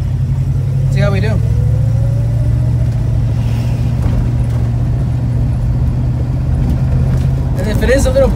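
A 1965 Plymouth Barracuda driving on a warm day, a close, steady mid-pitched engine drone with a short rise in revs early on, with voices talking over it at points.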